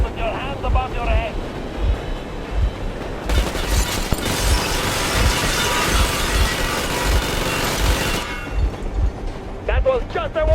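Warning gunfire in the Metro Exodus video game: a dense burst of shots lasting about five seconds rips through the middle over a constant engine rumble.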